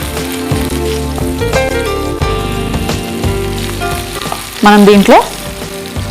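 Vegetables for sambar fry in a pan with a loud, continuous sizzle and occasional stirring scrapes, while a person speaks briefly over the cooking.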